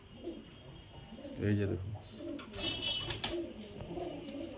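High flyer pigeons coo softly in a loft, with a few deep, throaty coos rising clearly over someone speaking nearby.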